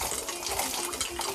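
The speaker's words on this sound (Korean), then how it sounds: "설치된 샤워기로 온몸을 충분히 씻어주는 닭반장." A shower installed at an asbestos removal site sprays onto a worker rinsing his whole body, making a close, continuous hissing splash of running water with uneven spatters.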